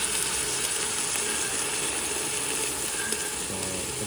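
A steady, loud sizzle of kare-kare ingredients sautéing in a hot pan, with faint scraping and clinking of stirring underneath, no voices.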